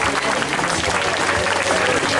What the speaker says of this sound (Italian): Intanto si prendono l'applauso da parte vostra.